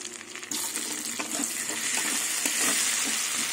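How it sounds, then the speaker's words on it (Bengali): Chopped tomatoes added to onions frying in a pan, a loud steady sizzle that swells after a sudden start, with light stirring and no voices. "এবার টমেটো কিছুক্ষণ এটার সাথে মানে পেঁয়াজের সাথে ভেজে নেব"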